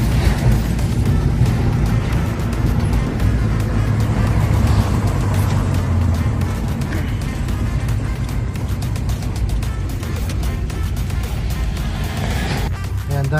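A lowered car moves slowly along a winding road, giving a steady close engine drone and tire rumble for the whole stretch, with a brief rougher burst near the end and no talking.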